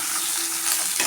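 Medium onions, sliced lengthwise, sauté in a pan, a short burst of close, bright sizzling and hissing with a faint scrape near the end.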